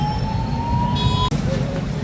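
An ambulance stuck in heavy city traffic sounds its siren, a steady rising electronic wail over a low traffic rumble, then switching to a different wavering tone partway through.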